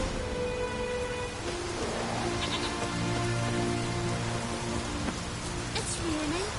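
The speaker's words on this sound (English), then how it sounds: "It's raining." Steady rainfall in the game Witcher 3: Wild Hunt, a constant hiss of drops with faint sheep bleats and low ambient tones mixed in, no speech over it.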